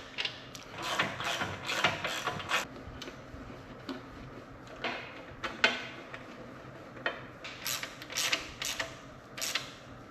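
Wrench ratcheting while bolts are tightened evenly on a flange of a 1936 barn-find tractor, quick bursts of clicking pawl with metallic creaks and pauses between turns, close and fairly quiet.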